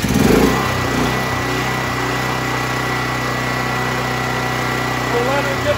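A DuroMax XP10000EH Elite hybrid generator engine, converted from gas to propane, starts with a loud burst and then settles into a steady, droning idle that runs on without a break.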